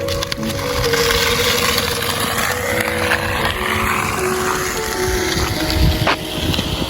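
A plastic bottle pressed against a moving bicycle's brake flutters like a motorbike exhaust, a loud buzzing rattle with wavering pitch over road rumble.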